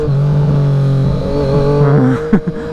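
A loud, close Triumph Street Triple RS motorcycle engine drones steadily, then revs with rising, wavering pitch near the end; no talking.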